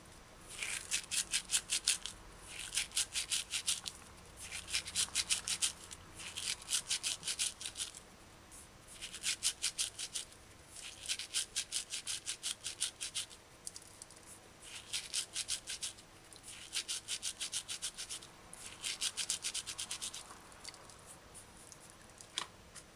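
Dried rosemary ground fine in a grinder, repeated gritty rasping strokes in bursts of a few seconds separated by short pauses, close and moderately loud with no talk.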